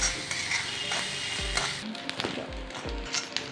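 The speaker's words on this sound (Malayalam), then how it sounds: "ഒന്ന് നല്ല ചുവട്ട് വറുത്തെടുക്കാം തീയലിനായതുകൊണ്ട് നന്നായിട്ട് ചുവക്കണം" Grated coconut with chilli, onion, coriander and curry leaves is stirred and dry-roasted in a pan for a Kerala theeyal, with a soft continuous sizzle and intermittent scraping and tapping of a spoon against the pan.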